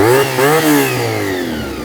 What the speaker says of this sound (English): that V4 sound